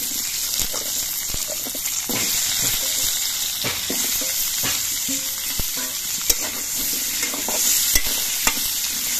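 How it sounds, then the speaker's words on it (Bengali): Potatoes fry in hot oil with a constant close sizzle, broken by sharp clinks and scrapes of stirring in the pan at irregular moments. "এবার এই তেলের মধ্যে আমি আলুগুলো ভেজে নিচ্ছি।"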